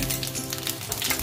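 Cumin seeds sizzling in hot oil in a pan while making potato vada, a dense close crackling fry that runs the whole brief moment with no voices.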